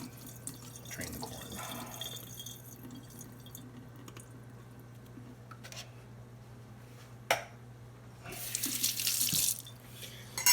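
Canned corn is drained in a kitchen sink, with tap water and dripping, then a louder rush of water near the end. The running water sounds close and stands alone.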